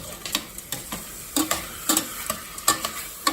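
A spoon stirs creamy pumpkin chicken chili in a pot, making scattered scraping and clinking taps over a soft simmering sizzle. The sounds come close and moderately quiet, with no voices.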